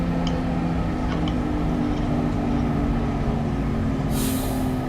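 A TGV 200 in a French train-driving video game brakes under a steady, loud rolling rumble, ending with a sudden bright hiss of released air in the final second.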